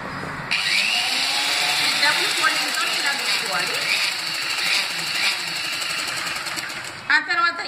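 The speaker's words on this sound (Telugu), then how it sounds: "డబుల్ ఫోల్డింగ్ చేసి ఇట్లా కుట్టుకోవాలి" A sewing machine stitches a double-folded hem on a newborn baby's nappy, whirring steadily up close for about six and a half seconds before stopping. A voice is briefly heard near the end.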